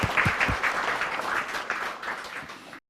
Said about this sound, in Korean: 박수로 예수님께 한번드리겠습니다.